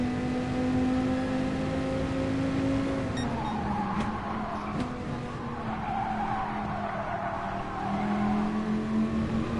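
A Dodge Viper engine drones in Gran Turismo Sport, a steady tonal hum with shifting pitch and brief tire or contact noises, continuous and close with no talk.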